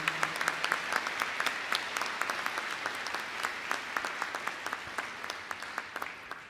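Sustained audience applause at a Black Hills State University spring commencement welcomes the class of 1971, with dense overlapping claps held at a steady level for the whole stretch.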